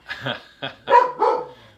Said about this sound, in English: That's my dog, Wesley